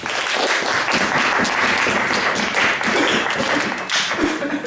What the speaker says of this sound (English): That's round of applause.